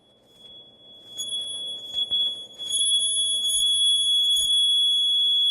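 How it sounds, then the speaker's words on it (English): A steady high-pitched ringing tone from a rosin-stroked aluminum rod holds throughout, bright and sustained like a struck metal rod, with faint scraping and knocks underneath. "now the rod is vibrating, which vibrates the air, which travels to your ear,"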